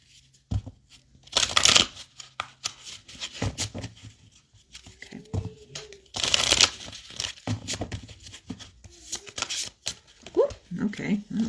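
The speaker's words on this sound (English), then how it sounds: "Sometimes when I shuffle, the cards like to jump out at me" Tarot cards are shuffled in bursts of quick riffling and papery swishes, close and fairly loud, with quieter handling between the bursts and a person speaking over parts of it.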